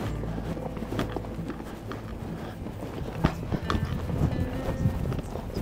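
A horse's hooves trot on a steep mountain trail in Michoacán, giving irregular, close clopping footfalls mixed with rustling and jostling gear.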